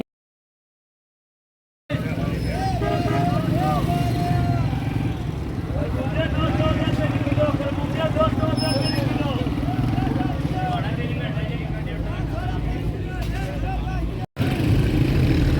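Cars and motorcycles pass continuously on a busy road in Pakistan, a dense close roar with engine whines rising and falling. It begins after two seconds of silence and drops out briefly near the end.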